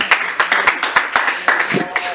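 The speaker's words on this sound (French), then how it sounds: "Applaudissez pour lui, s'il vous plaît." Rhythmic clapping from an audience at a women's rights conference, a run of sharp, evenly spaced claps at close range with a voice speaking over them near the end.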